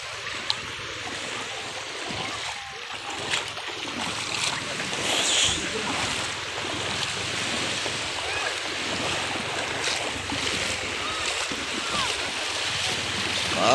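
Ocean waves wash against the shore at Masasa Beach in Tingloy, Batangas, a continuous rushing surf with wind buffeting the microphone and faint voices now and then.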